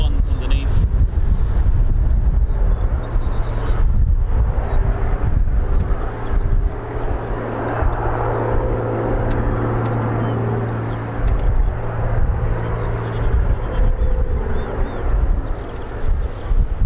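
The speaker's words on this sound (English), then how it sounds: "That definitely sounded like a Merlin." Rolls-Royce Merlin piston engine running on a Battle of Britain Memorial Flight aircraft at RAF Coningsby, a steady low drone throughout with wind buffeting the microphone.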